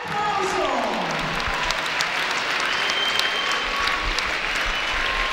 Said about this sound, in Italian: Applausi a scena aperta del pubblico